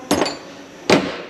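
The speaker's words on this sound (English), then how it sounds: "we're just gonna give her some adjustment with this little hammer" A small hammer strikes a bushing in a C-frame twice, sharp metallic knocks about a second apart, close and loud with a short ringing tail.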